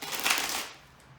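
A deck of tarot cards being shuffled by hand, a brief papery riffle and flutter that swells and then fades, close and moderately quiet.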